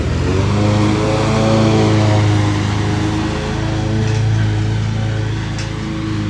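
Lawn machine engine mulching aeration cores in a backyard, running below full RPM: a loud, close, steady mid-pitched drone with slight rises and falls in speed, alone without talk.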